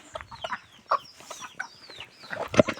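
Chickens cluck softly at close range while pecking at food, giving scattered short calls with bursts of scratching and pecking noise in between.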